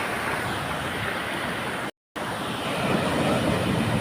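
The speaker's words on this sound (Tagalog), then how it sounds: "Malaki ng alon guys oh." Big typhoon waves crash and roar along the shore at Baler, Aurora, a dense, continuous wash of surf noise with a brief cut in the middle, loud and unbroken otherwise.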